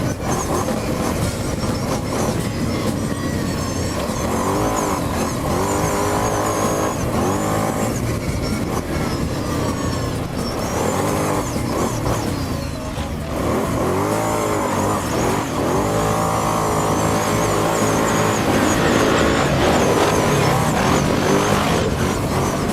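A 2013 Kawasaki Brute Force 750 4x4i ATV with a V-twin engine is ridden, its loud, close engine rising and falling in pitch with throttle changes continuously throughout.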